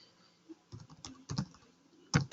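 Typing on a computer keyboard, a few separate clusters of key clicks with short pauses between, close and fairly quiet, with no talk.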